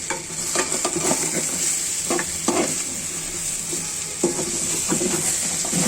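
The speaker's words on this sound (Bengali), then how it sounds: "আমি এখন নাড়াচাড়া করে নিচ্ছি" Rohu fish coated with salt, turmeric and spices fries in a pan, sizzling steadily up close while a utensil scrapes and stirs in irregular knocking strokes.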